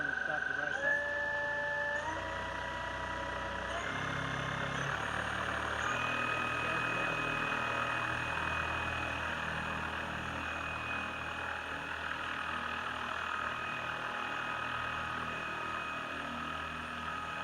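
An electric hovercraft's rear motor runs steadily inside an echoing garage, a constant whirring hum with shifting tonal whine as it spins up, moderately loud and continuous throughout.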